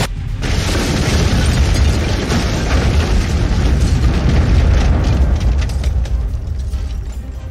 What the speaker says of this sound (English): Rindana detonates a massive explosive device.